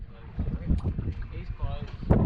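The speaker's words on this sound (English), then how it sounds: "it's too windy, as you can see" Wind buffets the microphone on a boat out grouper fishing, a steady low rumble with gusts under a man's speech, swelling loudly near the end.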